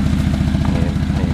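A mini truck engine runs rough and close by, its uneven chugging beat firing like a hit-and-miss engine, loud and steady with faint clatter on top.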